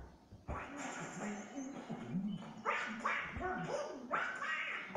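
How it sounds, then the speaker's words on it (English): A dog from the Kingdom Hearts Final Mix video game barks and yips in several short bursts, mixed with game music and character voices throughout. "I told you there was going to be a doggy."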